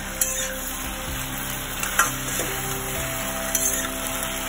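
Cauliflower Manchurian, an Indo-Chinese dish of crunchy cauliflower, fries in a pan with a steady close sizzle, broken by a few sharp scrapes and clinks as the mix is stirred.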